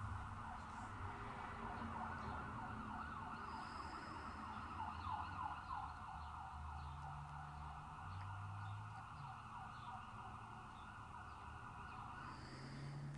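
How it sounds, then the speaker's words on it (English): A wailing emergency siren sounds steadily for a long stretch as a vehicle passes, heard over low traffic rumble. "There's gonna be a siren go by."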